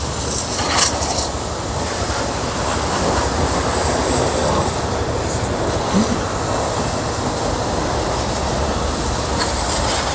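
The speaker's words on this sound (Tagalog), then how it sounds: "Malakas nga ang kanilang water pressure dito." A pressure washer blasts water onto a muddy 1,200cc BMW motorcycle at a self-service wash, a loud, steady, broadband hiss and rush that stays constant throughout with no talking.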